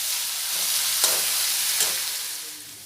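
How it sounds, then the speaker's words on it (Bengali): Potatoes dusted with turmeric powder fry in a pan, giving a steady close sizzle and hiss with two brief scrapes as they are stirred. "হলুদ গুঁড়ো, দিয়ে নাড়াচাড়া করে খুব ভালোভাবে আলুগুলো ভেজে নেব"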